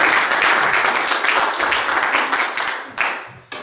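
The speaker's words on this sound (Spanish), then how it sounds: "Dale un aplauso a Dios." A church congregation applauding, loud and close, dense clapping that tapers off, with a couple of sharp final claps near the end.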